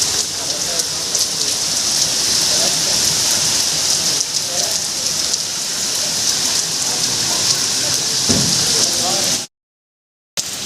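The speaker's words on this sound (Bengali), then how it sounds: "মারাত্মক হারে বৃষ্টি পড়ছে" Heavy rain pours down on a Sunday afternoon, flooding the road. The downpour is a loud, steady wash that runs unbroken until a brief cut near the end.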